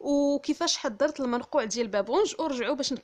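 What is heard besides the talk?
No everyday noise stands out behind the speech.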